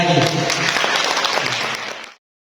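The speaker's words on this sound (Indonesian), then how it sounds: "Tepuk tangan lagi." Students and staff at a school orientation closing ceremony applaud together, a loud dense burst of clapping mixed with some crowd voices that cuts off abruptly after about two seconds.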